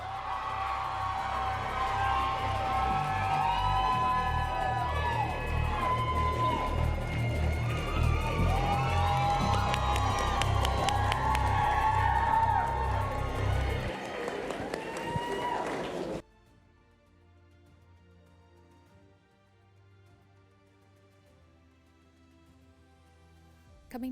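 Convention craftsmanship contest audience cheering and applauding loudly with whoops and shouts for about sixteen seconds, then cutting off abruptly to near silence.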